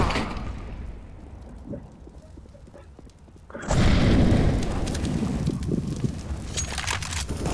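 A grenade going off in the video game CS:GO: a low rumbling background gives way to a sudden loud boom that keeps roaring with crackling noise to the end.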